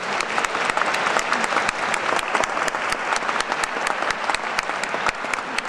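Steady audience applause in a concert hall at Heinz Hall welcoming a conductor, a dense patter of clapping that holds at an even level throughout.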